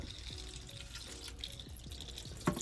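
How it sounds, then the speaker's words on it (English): Water trickles and splashes as it is poured onto a potted bamboo house plant, a steady close pour with soft drips and a brief louder splash near the end. "So we're gonna go ahead and give her some water."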